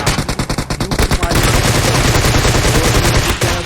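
Gunfire in the PUBG Mobile battle royale game, with the AWM sniper rifle and Groza assault rifle in play, a loud rapid string of automatic shots that swells into a dense, continuous burst of fire.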